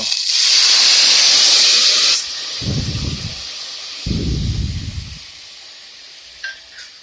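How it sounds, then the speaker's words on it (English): Onions and garlic hitting hot vegetable oil in a pan, a loud sustained hiss that cuts off abruptly, then low bubbling sizzle bursts that fade to a faint simmer, close up with no talking. "So this is my onions and garlic. Pan's on. We're going to hit it with a little veg oil."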